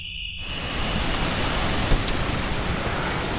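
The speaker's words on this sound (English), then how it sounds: "It's always nice to catch a good storm." Heavy rain pours down in a storm at a riverside campsite, a steady, dense hiss of drops hammering close by with a brief louder thump partway through and no voices.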